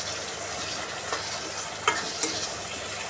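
Tomatoes fry in a pan with a steady, soft sizzle, broken by a few light clicks of stirring and scraping. No one speaks.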